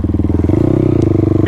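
A motorcycle engine fitted with a carbon fiber intake elbow and wide open air filter runs close and loud, its rapid pulsing firing rising into a steady higher rev, with a brief clattering tick partway through.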